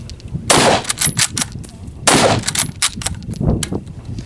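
A Mossberg MVP Patrol rifle in 5.56 NATO fires XM855 rounds from a Colt aluminum magazine, making loud, close reports in three separate bursts with echoing tails between them.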